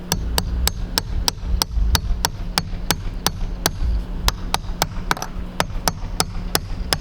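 Steady, evenly spaced sharp taps, about three per second, as a length of Tinktube pipe is hammered into place during a tiny studio build, close and crisp with a low background hum.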